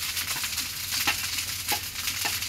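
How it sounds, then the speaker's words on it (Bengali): Cooked rice sizzles in a hot pan, a continuous close frying hiss with a few soft stirring knocks and scrapes. "ভাত ঢেলে দিল"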